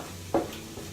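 Seafood risotto being sautéed in a Teflon pan or wok gives one quick, soft stirring scrape with a faint sizzle against an otherwise quiet kitchen background.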